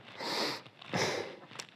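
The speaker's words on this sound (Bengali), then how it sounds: "নিঃশ্বাস জোরে জোরে।" Forceful breathing during a breathing exercise: two strong, close, airy breaths, one after another, the second harder, followed by a short sharp sniff.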